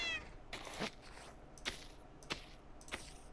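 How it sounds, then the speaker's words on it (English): An all-black cat in Minecraft meows several times, short separate mews spaced about a second apart, fairly close, over a soft steady background with no talking. "But something about this all-black cat here."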